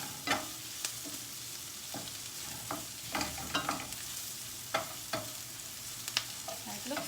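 Onion frying in hot oil for a vegetarian dish, a steady crackling sizzle broken by sharp scraping stirs at irregular intervals, close and moderately loud with no voices.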